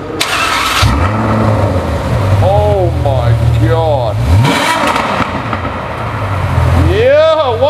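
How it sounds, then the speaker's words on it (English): Ferrari F12 TDF cold start: the engine cranks and catches with a sharp bark, then several rising revs and a high idle, loud and close, with voices speaking over it. "F12 TDF cold start right here"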